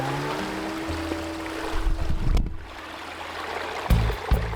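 Creek water rushing steadily at a vehicle creek crossing on a rain-soaked high country track, with bumps and a low engine hum mixed in.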